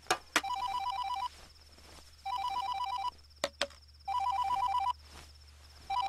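A telephone rings in repeated electronic trilling bursts about a second long, separated by short pauses, with a couple of sharp clicks near the start and middle, no talk over it.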